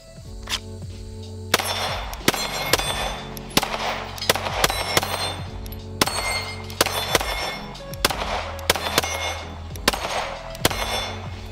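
Repeated CZ P10C pistol shots fired at a range, sharp loud cracks in irregular bursts over about eleven seconds, some quick doubles, with ringing echoes and background hum between shots.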